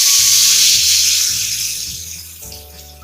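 A hot vaghar tempering with turmeric, poured into red chutney for masala dosa and idli, sizzles loudly at first with a bright hiss, then fades, with a few clinks of utensils.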